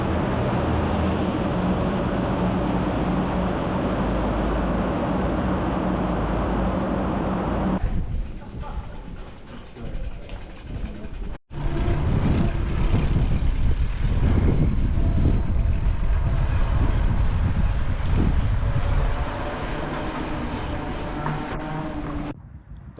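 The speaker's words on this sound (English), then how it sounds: "the noise in here is unbelievable when the lorries come through" Heavy lorries rumble loudly past on a mountain pass road between Italy and France, a continuous roaring engine and tyre noise that surges as each truck goes by close at hand, with a brief drop midway.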